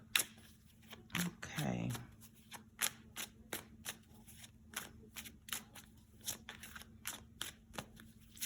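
Tarot cards are handled and shuffled close up, a series of crisp snapping riffles and flicks in an irregular rhythm, with a brief spoken word near the start.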